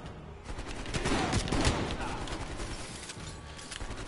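Rapid automatic gunfire from Call of Duty: Black Ops Cold War campaign combat, a dense loud burst of shots with heavy recoil that swells mid-clip and then tails into scattered fire.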